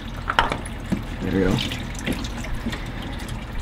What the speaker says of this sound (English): We'll let that drain for a little while.